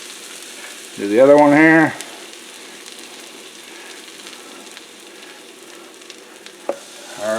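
Grilled cheese sandwich bread with garlic powder sizzling steadily in a hot pan, a close, continuous frying hiss, with a short spoken remark over it and a brief clatter near the end.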